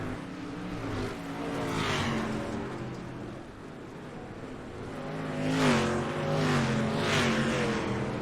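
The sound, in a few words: dirt street stock race cars racing on track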